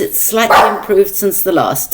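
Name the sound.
dog barking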